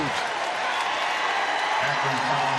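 A basketball crowd at an NCAA game between Akron and West Virginia roars steadily with cheering and applause, a dense arena wash under an announcer's voice.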